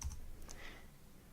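Computer keyboard typing during a Flash Builder 4.6 coding session: a short, quiet burst of clicky keystrokes near the start, then faint soft taps.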